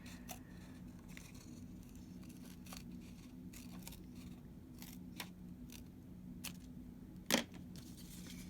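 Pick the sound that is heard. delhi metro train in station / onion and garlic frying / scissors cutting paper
scissors cutting paper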